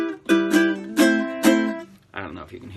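Four close ukulele strums with left-hand dampening give short, clipped chords with gaps between them, followed briefly by a voice beginning to speak.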